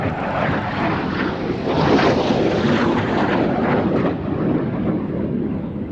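F-86 Sabre jet fighter flying at an air show, a broad roaring rush of jet engine noise that swells and holds steady before easing slightly, with no voices.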